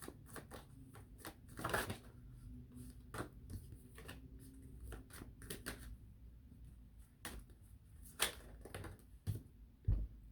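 Tarot cards are shuffled by hand, with irregular bursts of crisp card flicks and riffles, close and fairly quiet, separated by short pauses.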